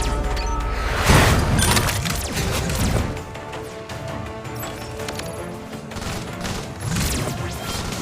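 Battle noise from the Iron Marines strategy game, with a loud crashing impact near the start and dense overlapping blasts and clatter that ease off, then swell again near the end.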